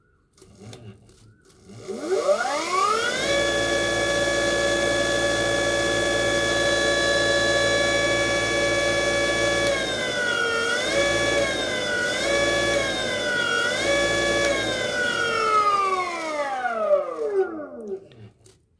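A 48/60V 2000W BLDC motor, the kind used in electric tillers, loaders and go-karts, spins up with a rising whine and runs steadily for about fifteen seconds, pitch wavering briefly midway before winding back down, loud and alone.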